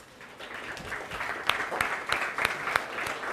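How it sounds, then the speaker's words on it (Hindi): Students in a Class 11 physics lesson give a burst of applause, steady clapping from many hands with sharper individual claps standing out, fairly close and lasting the whole stretch. "ताली बजाओ इसके लिए"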